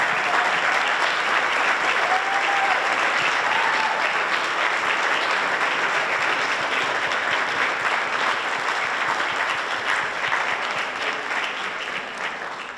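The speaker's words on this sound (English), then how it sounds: "one last round of applause for these wonderful," Concert audience at a Broadway-themed music academy evening applauding steadily, a dense sustained wash of clapping that holds loud throughout and tapers slightly toward the end.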